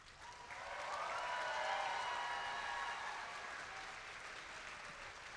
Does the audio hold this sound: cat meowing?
no